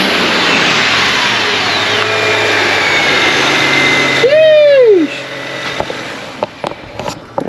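A car engine revs hard in a sustained loud roar, then cuts off with a sharp, descending whistle from a blow-off valve, followed by a few scattered clicks.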